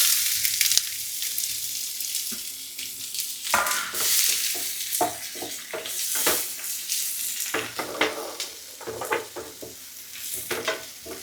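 Onions frying in a pan for a Kerala egg, okra and mundakka thoran, a loud close crackling sizzle with frequent scraping stirs of a spoon against the pan.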